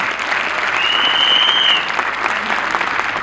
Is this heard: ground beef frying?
no